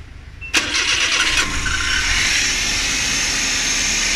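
Engine of a Suzuki Every Wagon cranks and catches with a sharp start, then settles into a steady, fairly loud idle that continues alone under a bright whine.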